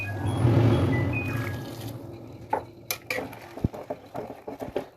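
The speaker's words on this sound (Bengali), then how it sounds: "জল দিয়ে দিচ্ছি।" Water poured into a pot of chicken curry with fried potatoes, a loud rushing pour at first that fades, followed by light clinks of a utensil against the pot.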